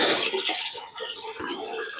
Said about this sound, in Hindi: और ये मंदिर में टंकी भरी जा रही है पानी से।